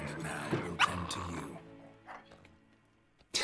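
A dog in the video game The Witcher 3: Blood and Wine gives a few short barks and yips, with softer whimpering and a final bark, mixed with game voices and background sound.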